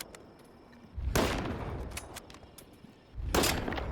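Two heavy, booming shots from an M701 sniper rifle in S.T.A.L.K.E.R. 2, spaced about two seconds apart. Each sharp crack rings out loud and close over a low, quiet background.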